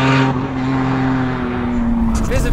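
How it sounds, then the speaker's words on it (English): A BMW M Roadster engine drones loud and steady from close by, a strong sustained tone that shifts slightly in pitch toward the end. "This car is so loud."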